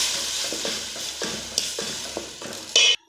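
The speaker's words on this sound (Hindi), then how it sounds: "अब इसको मिक्स कर देंगे।" A tomato and onion paste with garlic, ginger and green chili fries in a pot while a spoon stirs it. Rhythmic scraping strokes sit over a constant sizzle, and a sharp louder burst comes just before it cuts off.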